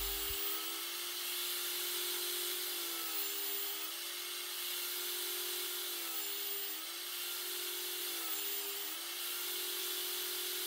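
An electric sander works over laminated wood strips, a steady close whir with a slightly wavering pitch as the pad moves across the wood, continuous and without speech.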